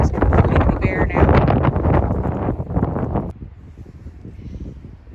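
Strong outdoor wind buffeting the microphone in a springtime garden, a loud rushing roar for about three seconds that then drops to a lighter steady gust.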